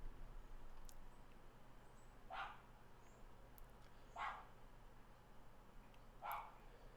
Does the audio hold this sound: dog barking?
yes